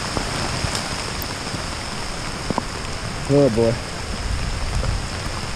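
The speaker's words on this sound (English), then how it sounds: "we're in the middle of a hailstorm over here" Golf ball sized hail pours down steadily in a sudden hailstorm, a dense continuous hiss and patter of stones striking around solar panels, with a man briefly exclaiming partway through.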